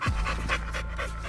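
American Bully puppies panting close by outdoors, a quick run of short, breathy rhythmic huffs lasting about a second.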